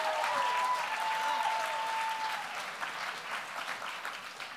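Enthusiastic applause for a poet at a poetry slam, with cheering and a whistle at the start, gradually thinning toward the end.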